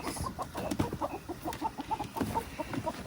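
A flock of chickens and roosters out on grass clucks in a busy, overlapping chatter of short, close calls, with no one talking.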